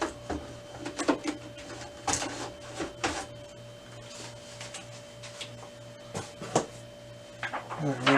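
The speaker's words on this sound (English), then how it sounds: "I'm going to grab some paper here and go put it in the printer." Paper being handled and loaded into a Canon Pixma TS202 printer: scattered rustles, clicks and knocks of sheets and the tray at close range, with a faint steady mechanical hum underneath and a person speaking quietly.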